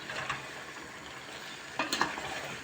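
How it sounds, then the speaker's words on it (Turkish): A potato dish sautés in a pan with a faint, steady sizzle, and a few quick utensil clinks and scrapes come near the end. "patates yemeğinin kavurmasını biraz uzun tutuyorum"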